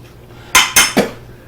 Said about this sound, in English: I'm going to stir these because I want it fairly well mixed